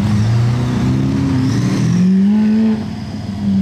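A sports car called the SV revs hard up close, its loud engine note climbing and wavering, then dipping briefly near the end as it passes, with no talk over it.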